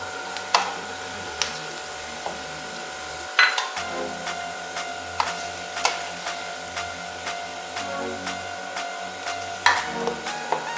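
Onions fry in oil for Hyderabadi biryani: a loud, close, crackling sizzle with regular metallic spoon scrapes and clinks against the pot every second or so, and no talking.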